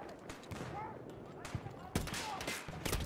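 Gunfire rattles through a Battlefield 2042 match, scattered sharp shots and short bursts set against busy battlefield noise and a voice talking underneath.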